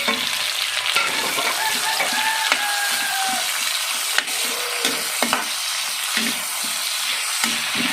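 Tomato, chili and onion sauté in a hot pan for a fish-head sinigang with talakitok, giving a steady, close sizzle with occasional utensil clinks and scrapes throughout.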